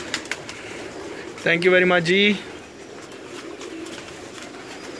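Teddy pigeons coo softly on a rooftop loft behind a man's brief spoken thanks, the low murmuring calls continuing faintly under and after the voice.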